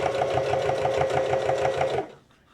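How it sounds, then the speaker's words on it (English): A sewing machine back stitches a bag liner, a close, fast, even run of needle strokes for about two seconds before it stops abruptly. "I'll just go and do a little back stitching"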